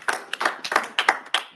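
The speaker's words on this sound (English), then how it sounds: "I think he deserves another round of applause." A few people at a developer meeting clap for an invited speaker, sparse individual claps in an uneven rhythm, about a dozen distinct hits over a second and a half, close and moderately quiet.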